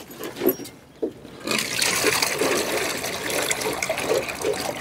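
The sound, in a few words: water being poured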